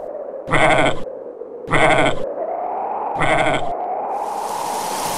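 Three loud, drawn-out bleats from goats in a cave, evenly spaced and close by, over a steady background hiss that brightens toward the end, in an animated cartoon.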